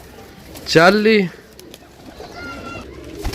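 A sturdy pigeon gives one loud, close coo, with a man counting aloud over a faint background.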